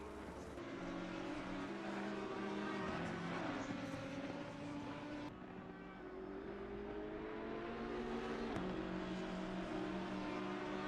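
BMW race cars in a PC racing game sweep through Sector 1 at Donington, engines droning steadily with rising and falling pitch as they shift gears, a continuous layered roar at moderate level.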